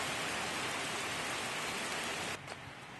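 Artificial rain pours from a rain machine as a dense, steady hiss of falling water that suddenly thins out near the end, leaving only a lighter patter.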